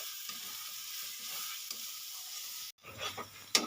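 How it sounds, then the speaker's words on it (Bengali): Masala with three spoons of hot chili powder sizzles and is stirred steadily in a pan for a Bengali chicken curry, a continuous frying hiss that cuts out briefly before scraping stirs and a sharp clink near the end. "এখানে সুন্দরভাবে দেখুন মশলাটা আমি একদম কষিয়ে নিয়েছি।"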